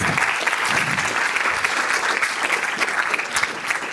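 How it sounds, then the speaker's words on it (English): An audience applauds speaker Kurt after a resilience talk, a loud, dense and continuous round of clapping with scattered sharper claps throughout. "please give Kurt a round of applause"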